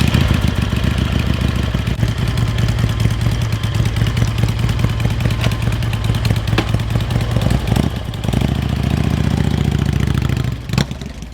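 Custom bagger motorcycle engine running close by, a loud, lumpy, pulsing rumble with rapid clattering firing pulses that dips briefly near the end before picking back up.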